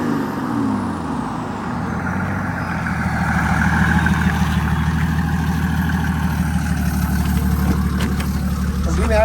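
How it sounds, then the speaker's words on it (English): A turbocharged Mercedes OM603 diesel on its stock turbo runs with a steady, deep rumble that grows louder and heavier partway through, rising toward a rev. The engine is close and continuous. "that stock turbo sounds pretty good"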